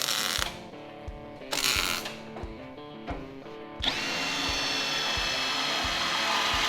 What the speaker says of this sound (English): we'll drill these holes and then we'll bolt this in.